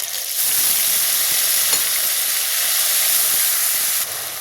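Ground spice paste sizzles loudly in hot oil with dried chilli, cumin and bay leaf, giving a dense, continuous frying hiss that holds steady for several seconds, close and without talk.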